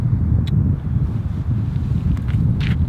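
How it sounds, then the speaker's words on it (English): Outdoor wind gusting while fishing for brook trout, a loud low rumbling buffet across the microphone that churns continuously through the whole clip, with a couple of faint brief ticks above it. "The wind is picking up enough, I gotta put my toque on"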